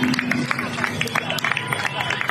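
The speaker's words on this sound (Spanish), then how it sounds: "los agricultores llegaban a Madrid entre vítores y aplausos" A large crowd in Madrid cheers and applauds as farmers arrive, sustained hubbub of voices and claps with scattered shouts, loud and continuous throughout.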